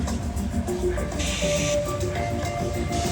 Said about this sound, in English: we also have Rainforest Cafe and the amazing volcano